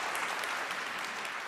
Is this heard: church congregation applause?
yes